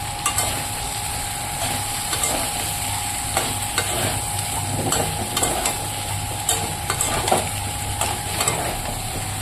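Fried potatoes stirred into a spiced curry in a pan, a low steady sizzle with repeated scraping and tapping of a spatula at irregular intervals, no talk.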